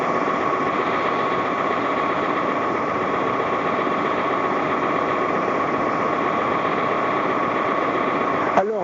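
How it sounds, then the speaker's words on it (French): A steady mechanical motor drone, like rotary printing presses running, holds an unbroken hum with a faint rattling texture throughout, ending with a brief sharp click. "un bruit de moteur, carrément"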